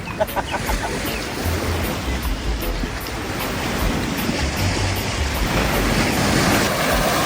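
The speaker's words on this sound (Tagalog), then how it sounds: "Mukha lang siyang dagat sa lakas ng mga alon." Strong waves churn on the Mississippi River at a riverside fishing spot, a loud continuous rush of surf and wind buffeting the microphone, with a faint rooster-like call somewhere in the background.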